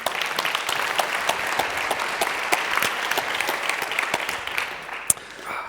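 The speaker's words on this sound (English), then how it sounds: "So I'd invite you to give a round of applause to Bartosz" Conference audience at SMX Munich 2019 applauding a speaker, a steady, dense round of clapping that carries on evenly before a sharp final clap and a quick fade.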